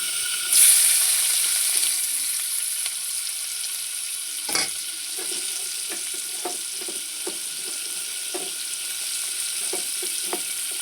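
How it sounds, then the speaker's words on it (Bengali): Garlic frying in hot oil for a Bengali tempering while making a fish-head curry with jute leaves, a steady soft sizzle running throughout with scattered light crackles and a small clatter near the start. "এবার দেবো তেলের উপরে রসুন ফোড়ন"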